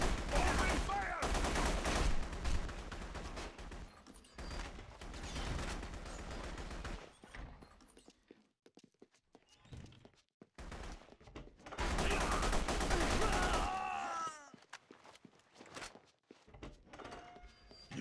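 Dense bursts of automatic gunfire from The Punisher video game rattle in two loud volleys separated by a quieter gap with scattered thuds, shouted game voices appearing between the bursts.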